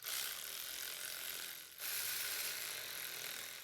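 A ratchet clicks in a fast, steady run while tightening starter motor bolts on a Toyota Avalon, pausing briefly midway before continuing; close and clear, with no talking.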